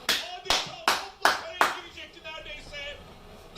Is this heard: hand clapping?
yes